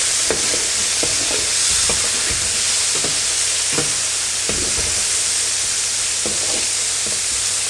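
Pork loin and chacina searing in a wide paella pan, a continuous loud sizzle and hiss of frying meat with scattered scraping stirs and utensil knocks against the metal.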